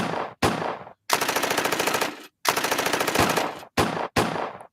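Rapid bursts of automatic gunfire, several long volleys separated by brief silences, loud and close, with no talking.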